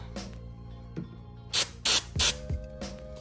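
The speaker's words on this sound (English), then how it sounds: "just go ahead and get a little bit of electronic cleaner, spray it down." Three short, hissing bursts from an aerosol can of electronic cleaner, close and loud, with light handling clicks between them.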